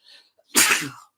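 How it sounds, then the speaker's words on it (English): A single sharp sneeze, close and loud, preceded by a faint intake of breath, then quiet. "I had to sneeze"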